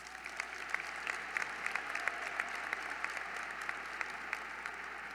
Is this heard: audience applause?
yes